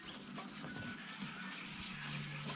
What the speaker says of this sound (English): sanding through, very, very lightly, sanding through all the yellowness